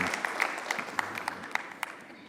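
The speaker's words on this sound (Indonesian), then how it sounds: "jadi kita tepuk tangan" Light applause from a forum audience, quiet scattered clapping with a few sharper individual claps standing out, brief and fairly soft.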